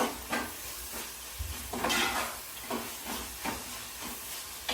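Ginger garlic paste fries in a pan for a paneer mushroom kadai masala, a soft sizzling hiss with periodic stirring scrapes, close and fairly quiet with no talk.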